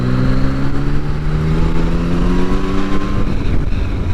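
A 2021 Yamaha MT-09 SP motorcycle with a large engine pulls from about 2000 RPM at low speed, its engine note rising steadily and loudly under constant wind buffeting.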